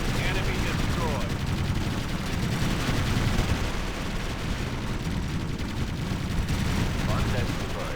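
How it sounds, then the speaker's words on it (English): Dense, continuous gunfire and explosions from the real-time strategy game Ground Control 2, a steady loud battle din with rattling bursts throughout, and faint unit voice lines mixed in underneath. "We're under heavy fire."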